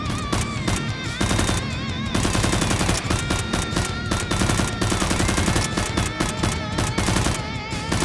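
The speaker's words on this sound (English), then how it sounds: "The last guard, seeing all his comrades dead, frantically fires at Tony." Gunfire exchange in a fight scene involving a criminal group, a dense, continuous barrage of rapid shots and bursts layered with buzzing, whining tones, loud and unbroken throughout.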